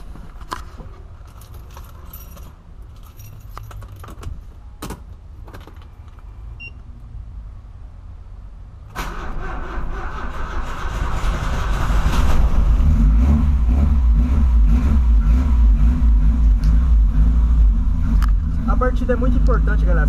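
A boxy Volkswagen Voyage engine cranks and starts after keys jangle, then settles into a steady low idle rumble, with someone talking over it.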